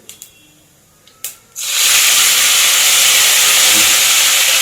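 Fresh green chilies drop into hot oil and start frying: a few light clicks, then a sudden loud, steady hiss of sizzling that fills the rest of the clip, close and with no voices.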